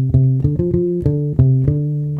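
An electric bass repeats the opening line of a song, a short run of clean, rounded plucked notes with a few rhythmic accents, close and alone.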